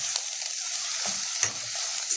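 A small amount of onion fries in a pan for an Iraqi dinner, giving a close, continuous hissing sizzle with a few faint stirring knocks and no voices.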